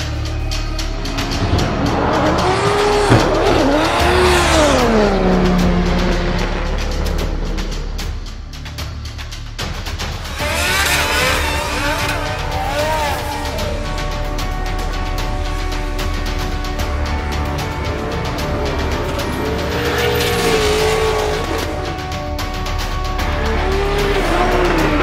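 A drift car makes a competition run at a Drift Masters event in Germany, its engine roaring and revving as the tires squeal in long wavering bursts, loud and close, with quieter stretches between passes.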